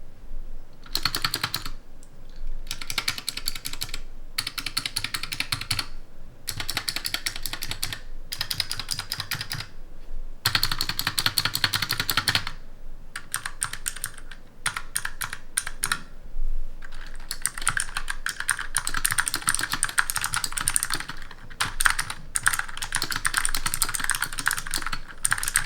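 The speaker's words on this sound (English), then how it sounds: "here we'll do a quick sound test so you can hear what the Razer purple optical switches sound like" Typing on a Razer Huntsman Mini keyboard with purple optical switches and double-shot PBT keycaps, a close run of crisp clicky keystrokes in fast bursts with brief pauses.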